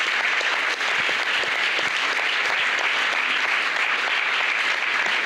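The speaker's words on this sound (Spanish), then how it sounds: "Fuerte el aplauso para ellos." An audience at a book presentation bursts into strong, sustained applause, a dense even roar of many hands clapping that stays loud throughout with no talk over it.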